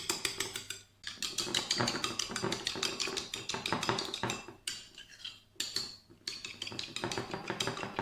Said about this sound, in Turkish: üzüm pekmezini yoğurda ilave ediyorum ve iyice karıştırıyorum